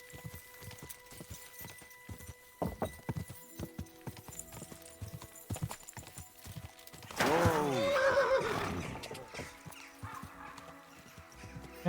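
A horse in the medieval video game Kingdom Come Deliverance 2 clip-clops with steady, scattered hoof knocks, then lets out one loud, drawn-out whinny partway through before the hoofbeats resume more quietly.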